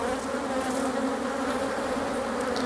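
Honeybees hum in a steady, dense buzz close by, kept by beekeepers working against a harsh climate; the drone holds even and continuous without any voices.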